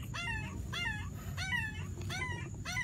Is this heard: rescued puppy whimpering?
yes